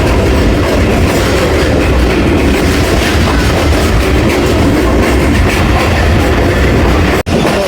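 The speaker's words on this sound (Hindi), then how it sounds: "दोस्तों संजवाल से पास शुरू हो गई हमारी ट्रेन।" The Rahman Baba Express passenger train, 48 Down on the Attock City to Rawalpindi line, rumbles along the rails with loud, continuous clickety-clack and wheel roar, close and steady throughout, with a brief dropout near the end.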